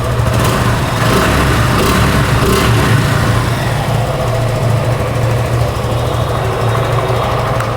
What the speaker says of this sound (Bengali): বাইকটা কিন্তু স্টার্ট করা হয়েছে।